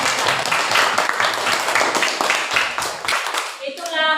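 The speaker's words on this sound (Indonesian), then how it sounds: "berikan aplaus kepada teman kita" Classroom applause for a classmate, a steady dense patter of many hands clapping at close range that thins out toward the end, with some voices mixed in.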